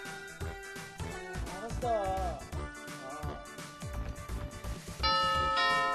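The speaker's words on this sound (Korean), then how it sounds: "초인종이 울리자 남자가 냉큼 달려나가요." Animated voices and background music play, then a bright ding-dong doorbell chime rings out near the end.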